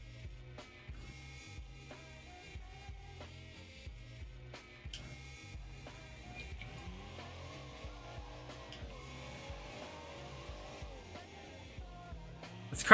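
A small car driving and drifting in the video game BeamNG, engine tones rising and falling as it revs through shifts, with short tire squeals and a sharp burst at the very end, all fairly quiet and clean.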